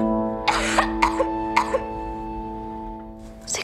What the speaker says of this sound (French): Qu'est-ce que t'as à tousser comme ça?